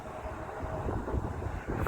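A distant Amtrak train rolls past in the background, a low continuous rumble with faint rhythmic thumps and some wind noise on the microphone.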